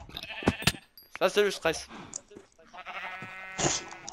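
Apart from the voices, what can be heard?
sheep bleating in the video game Minecraft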